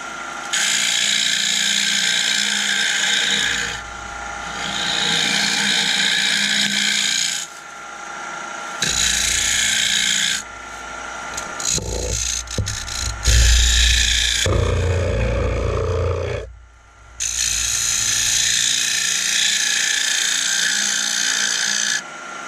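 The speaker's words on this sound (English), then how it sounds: "Comes the little round nose scraper." An oak bowl spins on a wood lathe while a round nose scraper rasps and scrapes against it in several long bursts broken by short pauses, close and loud, with knocking and shifting noises in the middle.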